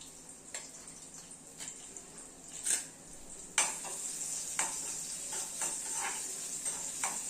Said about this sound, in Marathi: आता यामध्ये मी बारीक चिरलेला कांदा घालते